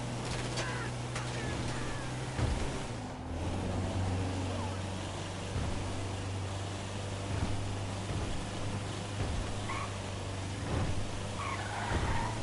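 A car skids during a brake boost in the video game GTA Online, with a sustained engine drone and tire screeching over steady road noise.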